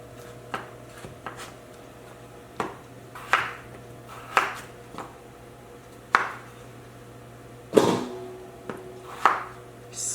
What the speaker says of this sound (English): And then you cut them into wedges